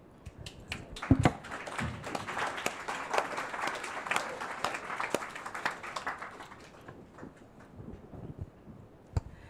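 A small audience at a residents' council meeting claps in a room, scattered hand claps building into steady applause, then thinning out to a few final claps.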